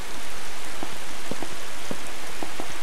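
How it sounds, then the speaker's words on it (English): Steady rain in the video game Heritage, a dense even hiss of drops falling on a surface, with a few soft taps showing through it. "And now it's raining all of a sudden."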